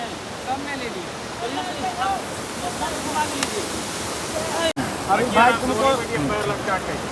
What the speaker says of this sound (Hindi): वाटरफॉल के नज़ारा